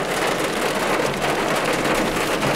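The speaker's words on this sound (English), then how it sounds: "and it's actually hailing right now." Hail and heavy rain pound on a car hood during a Southern California storm chase, a thick, loud, continuous pelting clatter with no gaps.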